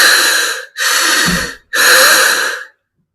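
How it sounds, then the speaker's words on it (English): A person demonstrates three deep breaths, each a long, loud, close rush of air lasting under a second, separated by short pauses, with no speech. "You're going to take 3 deep breaths, and I will demonstrate what these sound like"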